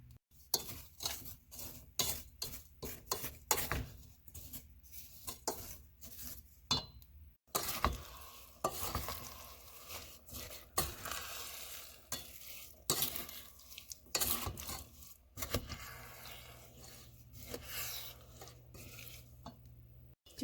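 Red beans and sugar cooking down in a pan over medium-low heat, stirred continuously with a utensil that scrapes and clinks against the pan, soft and close, with a faint sizzle underneath.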